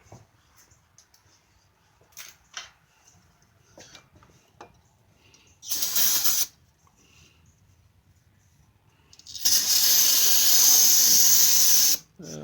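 Aerosol brake cleaner sprays in short hissing bursts while working on a Jeep Grand Cherokee's front crank seal and harmonic balancer, with one brief blast, then a longer steady spray of about three seconds, close and loud between quiet clicks.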